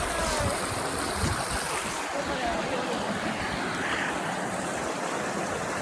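Water lapping and rushing steadily at an outdoor nature spot, a broad continuous wash with some breezy hiss, fairly close and moderately loud, with no talking over it.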